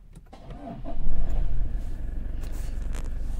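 A Toyota Fortuner BS6 engine cranks briefly and catches, then settles into a steady low idle rumble heard from inside the cabin, with no talking.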